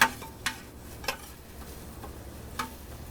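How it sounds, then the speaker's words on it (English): Scallions and ramps stirred in olive oil in a paella pan outdoors, with soft scraping clicks at irregular intervals over a faint, steady sizzle. "we're going to stir that up just a little bit, let it get coated with the olive oil"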